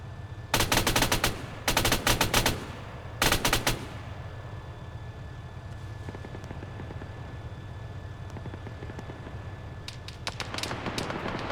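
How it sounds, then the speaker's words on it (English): Machine gun fire in a military video game rattles out in three loud rapid bursts early on, then quieter distant shots and helicopter-like rumble continue, with another burst of gunfire near the end. "Saw gunner in the woods, up high, 90 degrees right of the vehicle. Halfway up the hill, you'll see tracers, Evo."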